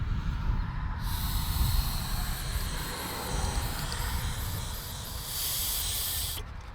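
Air blown by mouth through a passage of a disassembled carburetor from an abandoned 1967 Lincoln Continental, a steady breathy hiss that starts abruptly and holds nearly unbroken for several seconds, with a brief surge near the end.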